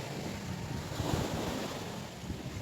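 Sea waves roll onto the shore in a steady, broad wash, mixed with wind buffeting the microphone, with no voices.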